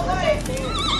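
A horse whinnies loudly and close by at an outdoor pony and horse ride spot after a parade, a single shrill wavering neigh over low background murmur.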